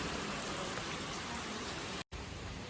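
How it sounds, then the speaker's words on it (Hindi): Heavy, steady rain pours down during a red-alert storm, a dense continuous hiss close by, broken by one brief silent gap near the end. "आहा क्या बारिश हो रही है भयंकर"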